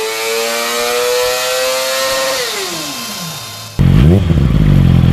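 A high-revving Yamaha R6 supersport motorcycle engine screams near 17,500 rpm, holding a loud steady wail before its pitch falls away, then a sudden harsher, louder blast of engine noise takes over.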